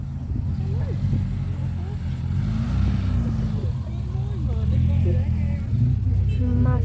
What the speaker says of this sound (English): Here's a Golf GTI coming in here